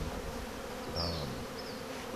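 Bees buzzing close by during a large hive removal at a winery, a dense continuous drone with a brief louder pass from a nearby insect.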